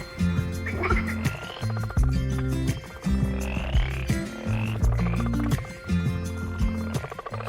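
Deep, throaty frog croaks repeat in steady overlapping rhythms at night in Sri Lanka, a dense chorus close by with faint higher calls behind.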